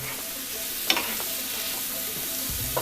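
Food frying in a little oil in a pan on a stove for a quinoa burrito bowl, a steady close sizzle with a few soft clinks of stirring or a utensil, no talking.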